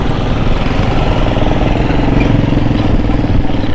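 A tractor engine runs steadily during flood cleanup in a low-lying area of Karachi, a loud, continuous mid-pitched chug with rattling clatter and no talk.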